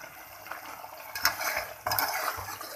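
Ketchup, tomato paste and chili garlic sauce stirred together in a pan, with close, moderately loud scraping and wet mixing strokes, including two stronger bursts of utensil scraping.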